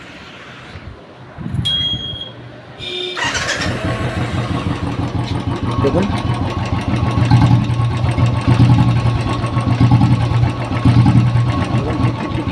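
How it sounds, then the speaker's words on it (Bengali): A 2013 Royal Enfield 350cc cranks over, catches and settles into a steady close idle, its rapid rhythmic tappet ticking from the rocker clearly running through the thumping exhaust, with a brief spoken word near the start. "গাড়িটা স্টার্ট করে ট্রাফিক সাউন্ডটা আপনাদেরকে শোনাই"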